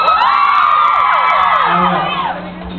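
A live audience at a comedy show cheers, whoops and shouts loudly together, a dense close roar of many voices that holds steady and then starts to fade toward the end.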